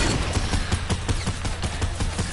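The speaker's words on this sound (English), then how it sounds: "Let me shoot you with the AR once." An assault rifle fires fully automatic in a building battle video game, with loud rapid shots at an even rhythm of about seven per second over a dense bed of game noise.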